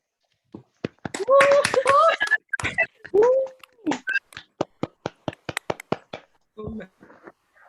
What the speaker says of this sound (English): Everyone, please feel free to unmute your mic and then just show your storm of applause.